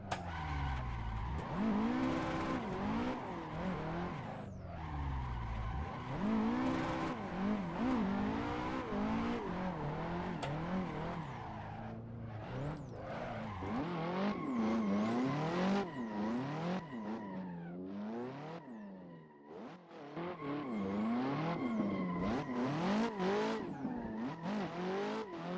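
A Nissan Skyline drifting in the racing game Assetto Corsa, a loud engine revving up and down through gears with long continuous tire squeals and skids, sustained throughout with brief lifts between slides.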